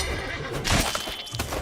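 Horse in the video game The Witcher 3: Wild Hunt giving a sharp whinny in the middle, with clopping hooves and other game sounds around it, close and clear.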